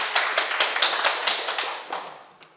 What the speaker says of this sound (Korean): 박수 한번 부탁합니다